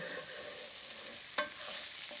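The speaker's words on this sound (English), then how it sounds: "I'm going to give this another stir." Stuffing mixture stirred in a pan while bacon fries nearby, a soft steady sizzle throughout with a sharper scrape of the spoon about midway, quiet and close with no talk.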